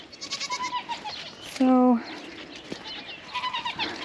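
Goats give a single loud, near bleat in the middle of a farm scene, a person speaking before and after it.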